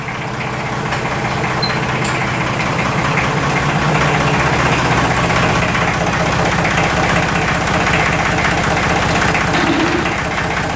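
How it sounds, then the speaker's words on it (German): An old tractor engine idles close by, a loud, steady low rumble with a continuous knocking throb and no pauses. "Ah, so ein schöner alter Traktor."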